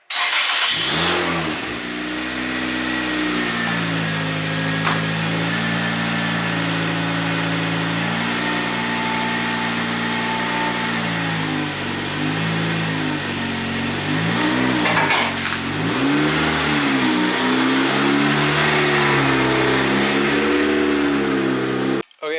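A Toyota Celica GT-S engine runs steadily near the microphone as the car is pulled out, idling with several revs rising and falling partway through, continuous and fairly loud with no talk.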